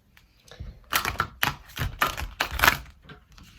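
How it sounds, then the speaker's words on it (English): Tarot cards shuffled close up in several sharp, rhythmic bursts of papery slapping and riffling, each burst separated by a short pause, with no voice over it. "we'll shuffle it one more time"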